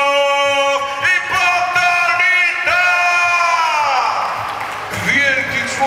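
Crowd noise at an Olympic-style boxing gala rises under a loud announcer's amplified voice, swelling into a broad, indistinct roar toward the end.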